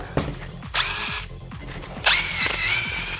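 A power drill fitted with an all-in-one bit bores into a stone wall, loud close whining bursts of the motor under load, with rapid grinding ticks in between.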